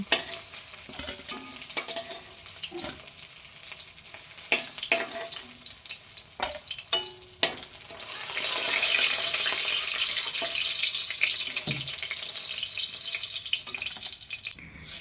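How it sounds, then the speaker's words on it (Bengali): Shol fish fries in hot oil, a soft steady sizzle punctuated by sharp clicks and knocks, with a broader hiss swelling midway; no one talks. "এখন মাছের মাথাটাও আমি ভেজে নেব একই সঙ্গে"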